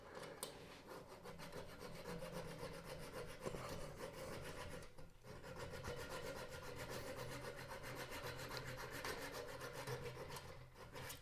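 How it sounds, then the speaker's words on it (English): A small hand pole saw cuts through wood held on a woodturning lathe, with steady, continuous rasping strokes running nearly the whole time, close and fairly loud, broken by one brief pause midway. "And then I just have a little pole saw I always keep right here."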